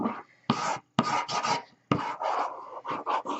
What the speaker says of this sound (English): So we're going to now burnish.